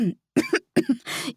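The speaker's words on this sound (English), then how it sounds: "Matt snorts into his drink, then begins to cough." A man coughing after snorting into a drink, several short harsh coughs in close succession, near and loud, ending in a breathy rasp.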